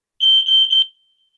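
An alarm sounds during an online video call: a single high, piercing electronic beep lasting under a second, pulsing slightly and then stopping, loud and alone with no talk.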